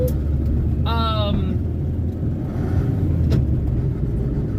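A 1978 Honda Civic with manual steering and a manual shifter drives along with a steady low engine and road rumble heard from inside the cabin. A brief voice cuts in near the start.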